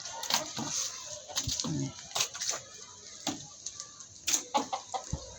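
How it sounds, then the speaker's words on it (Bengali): An American Brahma chicken gives a series of short, scattered clucks and pecking sounds close by on a rooftop garden, amid quiet background noise. "ওইটা আমেরিকান ব্রাহ্মা জাতের মুরগি"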